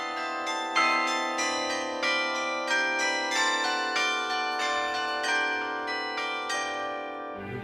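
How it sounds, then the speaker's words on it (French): Carillon of 33 bells at Notre-Dame de la Platée in Castres playing the Occitan hymn, a steady melodic sequence of bright ringing strikes with long overlapping resonance, loud and clear with no voices. "l'hymne occitan, le secanto, joué par les 33 cloches de Notre-Dame de la Platée"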